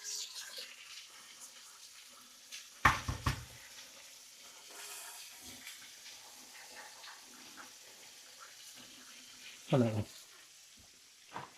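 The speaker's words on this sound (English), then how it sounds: "Get some eggs in that butter." Eggs fry in butter in a pan with a faint, steady sizzle. A few louder clatters from the pan break in, and someone speaks briefly nearby.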